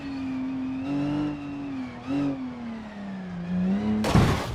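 A rally car in a racing video game drones with a steady engine note that rises and falls between shifts, ending in a sudden loud burst of noise like a crash or skid near the end.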